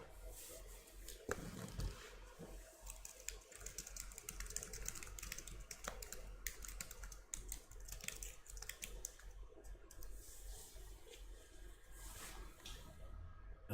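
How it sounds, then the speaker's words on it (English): Quick, uneven clicking of keys on a computer keyboard runs throughout at a moderate distance, with soft room noise beneath and no talking. "Sorry for typing noises."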